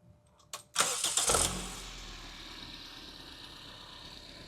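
A car engine cranks with a few quick clicks and whirs, catches with a loud roar, then settles into a steady idle.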